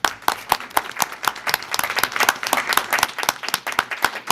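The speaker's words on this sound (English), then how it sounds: "Please give them a round of applause." A room at a board of education meeting breaks into applause for students, a moderate crowd clapping steadily with dense overlapping claps for several seconds.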